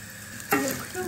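Vermicelli is stirred in hot butter in a pan for bulgur pilaf, a soft steady sizzle with a quick scraping stir midway, close by and brief.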